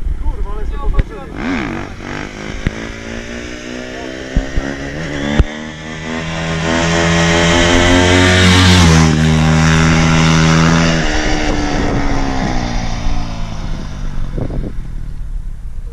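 Touring motorcycle fitted with a Kawasaki Z1000 sport engine revs up, the engine note climbing to a loud sustained peak before easing back, with people talking nearby.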